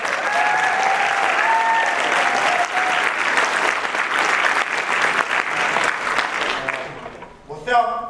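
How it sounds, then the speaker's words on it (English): A theatre audience at a Gaza Monologues performance in Aotearoa New Zealand gives a long, loud round of applause that fades near the end, with a faint tone and a voice briefly audible over the clapping. "Also want to get a big round of applause for our moana."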